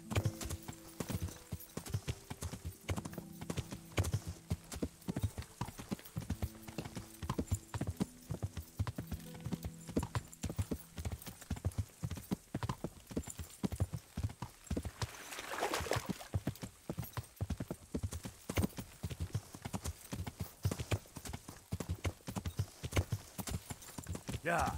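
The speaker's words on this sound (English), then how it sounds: "Mount the horse." Horse hooves clip-clopping at a steady gallop in the medieval video game Kingdom Come: Deliverance, a continuous rhythmic pounding over game music, with a brief whinny and a voice talking over parts of it.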